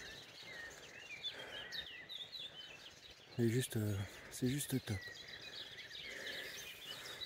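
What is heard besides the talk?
birds singing by a stream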